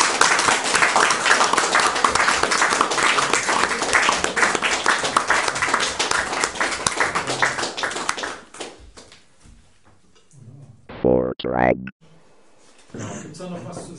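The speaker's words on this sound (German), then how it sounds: "Und wir können auch mal alle zusammen klatschen." Audience clapping together at a live interview event, a dense, loud burst of applause for about eight seconds that then fades out, followed by brief talk.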